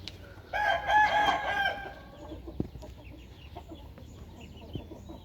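A fighting rooster lets out a loud crow close by, followed by softer clucks and scattered clicks and knocks.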